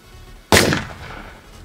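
A single sharp gunshot-like blast on a film set, sudden and loud after near silence, with a short decaying tail.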